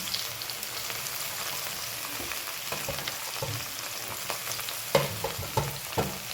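Chopped onion and green garlic sizzle in hot oil with asafoetida, red chilli and bay leaf for a mixed dal. A steady close crackle is broken by a few louder stirring clatters near the end.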